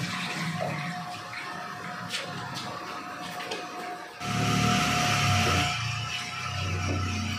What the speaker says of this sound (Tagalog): hayaan mo lang muna natin kumulo ng lumambot pati ng kaunti yan